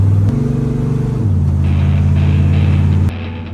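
Race truck cruising along the highway on a long cross-country drive, its engine a loud steady drone that steps down in pitch as it shifts gears, then cuts to a lower hum near the end.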